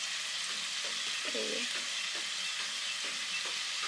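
Potatoes fry in hot oil with a soft, steady sizzle, and a spoon stirs and taps the pan a few times; a brief word is spoken.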